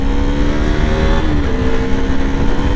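A KTM RC200 BS4 sport motorcycle accelerates hard through its gears. The engine note holds loud and steady and climbs in pitch between shifts, without a pause.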